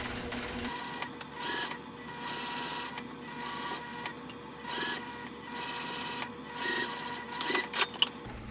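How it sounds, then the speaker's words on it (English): A sewing machine top stitches a hobo bag in several runs of steady whirring, separated by brief pauses, with a light rattle at the end and no talking. "now I'm going to top stitch again 1/8 of an inch away"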